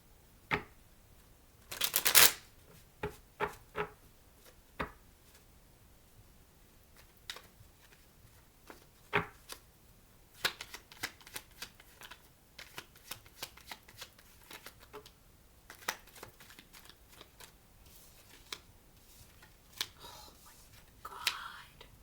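Tarot cards are shuffled close by in repeated quick riffles and soft flicks, separated by pauses, with faint whispering in the gaps.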